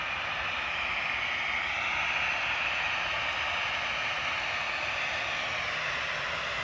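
Airbus A320 airliner at Manchester Airport, a faint, steady engine hiss and rumble heard from a distance, continuous and unchanging with no voices.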